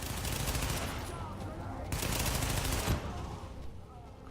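Rapid submachine gun fire in the Tom Clancy's The Division subway morgue level, bursts of dense crackling shots continuing through the clip with a brief break near the middle.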